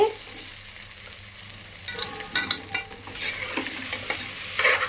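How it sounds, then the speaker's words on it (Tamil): Ginger-garlic paste with green chillies sautéing in a pan for tomato rice: a soft sizzle under repeated spoon stirs and scrapes that grow busier in the second half, close by, without speech. "ஸோ வதங்கட்டும் அப்படியே பாருங்கள் வதங்கிருச்சு"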